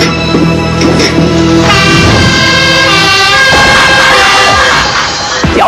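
A fire engine carrying fire hoses blares its siren loudly and steadily, with a truck horn and engine rumble mixed in, close by and with no speech.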